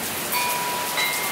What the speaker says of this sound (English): Getting rain on us.